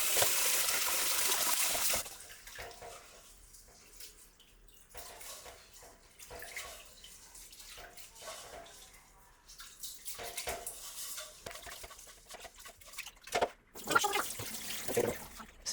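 Tap water runs into a bowl of rice being rinsed in a home kitchen, a steady splashing rush that starts loud, drops to softer trickles and sloshing, then swells again near the end.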